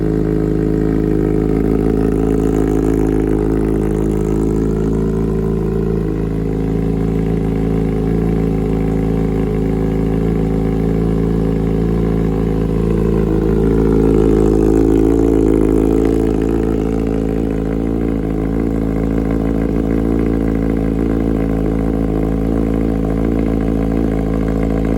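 A 2023 Kawasaki ZX-6R 636 motorcycle engine idles steadily after a cold start, nearby, a constant rumbling drone with slight surges in the middle.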